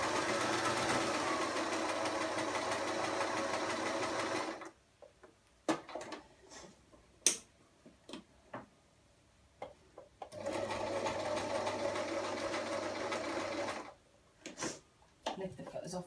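A sewing machine stitches across the bias of fabric in two steady runs of rapid mechanical chatter, separated by a quiet pause filled with soft clicks and handling noises.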